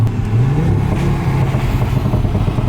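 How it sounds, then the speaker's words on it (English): An Audi RS3 with a hybrid turbo making 650bhp rumbles loudly on a downshift, its exhaust crackling with a rough, continuous low burble and scattered pops close by. "every time I get into a car and it pops and bangs"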